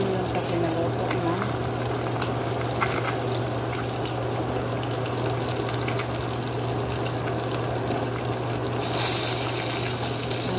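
Fish frying in a pan with its skin sticking, a steady close sizzle and crackle running throughout with a constant low hum underneath.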